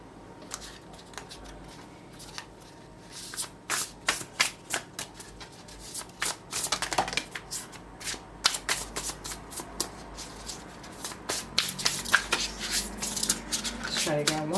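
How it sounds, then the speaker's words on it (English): A tarot card deck is riffled and shuffled by hand in repeated bursts of crisp flapping and slapping, growing busier toward the end, close up, with a voice speaking faintly underneath. "Now let's shuffle the deck again, this tarot deck"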